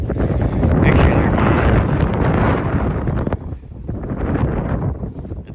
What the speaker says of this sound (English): It's super windy out here, so hopefully the volume is not too bad.